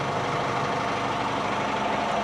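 A steady, rumbling farm tractor engine drones on at close range without pause, idling.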